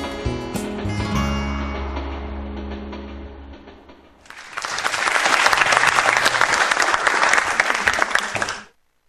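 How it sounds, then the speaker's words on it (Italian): Studio audience applause bursts in loud and dense after music fades, a sustained wash of clapping that ends abruptly. "Applauso, applauso, applauso,"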